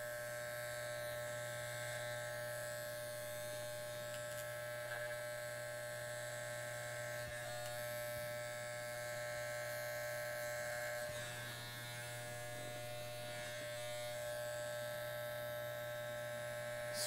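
Electric hair clippers run steadily through a low fade and neckline cleanup at a barbershop, a constant close buzzing hum with slight shifts as the blade moves through the hair, no talking.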